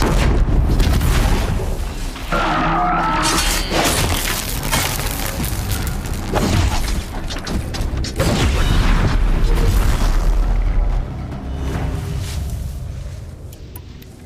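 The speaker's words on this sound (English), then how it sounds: "Another explosion." Explosions and heavy booms in the video game Horizon Zero Dawn, loud and dense, with repeated blasts over crashing, mechanical game effects that continue steadily throughout.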